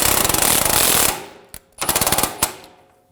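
Pneumatic impact wrench snugging the axle nut on a rear CV axle of a 2007-2013 BMW 328i 3.0L inline-six: a long rattling burst, then two shorter bursts and a sharp tap, loud and close.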